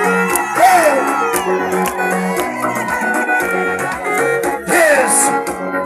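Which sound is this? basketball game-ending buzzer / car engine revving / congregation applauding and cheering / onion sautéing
congregation applauding and cheering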